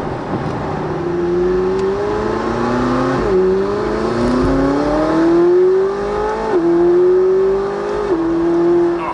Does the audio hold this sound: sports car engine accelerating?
yes